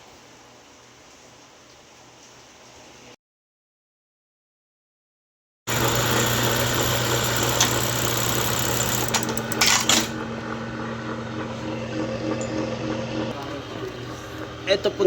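An industrial buttonhole sewing machine runs with its belt-driven motor. After a short gap of silence the motor returns with a loud, steady whir and rapid mechanical chatter.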